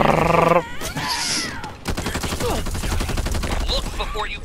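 Gunfire in the zombie co-op shooter Back 4 Blood: after a brief electronic tone, a rapid, dense stream of shots rattles on steadily to the end, close and loud.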